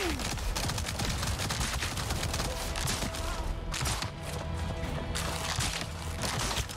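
Heavy video game gunfire in Avatar: Frontiers of Pandora, a continuous dense fusillade of overlapping shots and crackling impacts at a steady loud level throughout, with a player's voice briefly heard beneath it.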